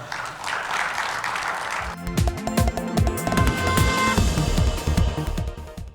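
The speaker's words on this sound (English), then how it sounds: "Let's give them a round of applause." A studio audience at a televised agriculture panel debate in Rwanda gives a brief burst of clapping lasting about two seconds. Loud music then cuts in and takes over.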